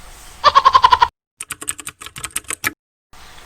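Computer keyboard keys tapped out in a quick run of about seven even clicks, then a second looser burst of key presses, close and clear with no talking.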